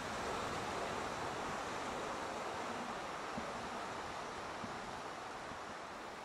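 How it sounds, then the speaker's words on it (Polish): Rough ocean waves surge against the volcanic Galapagos coast, a steady, dense roar of surf and spray that stays loud and unbroken from start to finish. "Fale się wznoszą."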